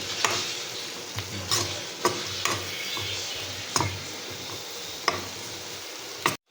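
Carrots are stirred in a frying pan for sweet and sour tilapia, giving a steady sizzle broken by several sharp utensil clacks against the pan at irregular intervals.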